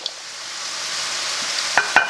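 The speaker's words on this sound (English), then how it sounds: "So we're going to add this right to our boiling water." Steady broadband hiss of boiling water, ending with two sharp bumps and splashes as pasta is dropped in near the end.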